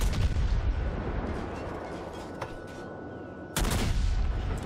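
Warship guns boom in World of Warships, a loud rumbling salvo fading over several seconds before a second heavy volley crashes in near the end, with no talk.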